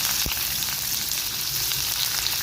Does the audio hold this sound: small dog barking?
no